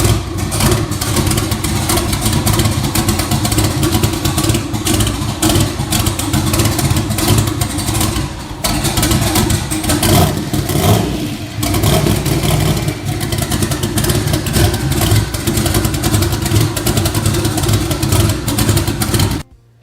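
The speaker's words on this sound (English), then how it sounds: "here's a clip of the car idling" A turbo LS-powered car with a 10-inch torque converter idles loudly and steadily with a lumpy, choppy rhythm close up, continuing unbroken until it cuts off abruptly at the end.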